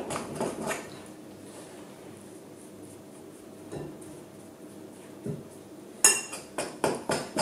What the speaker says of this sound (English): You can see I'm mixing with a spoon.